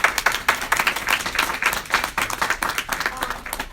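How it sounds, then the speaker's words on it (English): A room full of people claps at the end of a presentation: a lively, uneven patter of individual hand claps in quick pulses that carries on steadily for a few seconds. "Let's give them a round of applause."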